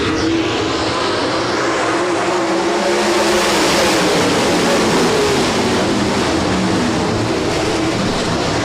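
A pack of 360 sprint cars roars around Rapid Speedway at race start, their engines blending into one loud, continuous, broadband drone with no talk over it.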